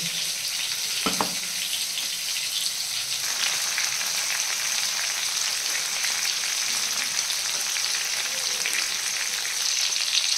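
Prawns sizzle in hot oil for an Odia-style prawn curry, a steady close frying hiss running throughout with a brief clatter near the start and no voices.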